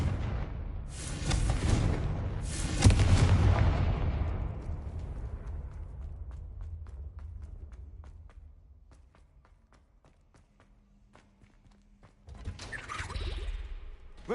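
Confringo fire spell blasts in Hogwarts Legacy: two heavy, close explosive bursts at the start, a rumbling decay that fades toward near silence, then another loud blast rising near the end.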